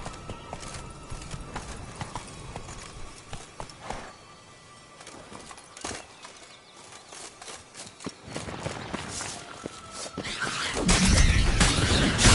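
Roach the horse gallops in The Witcher 3: Blood and Wine, hooves clip-clopping in a steady rhythm with a brief whinny, building louder toward the end over ambient game sound.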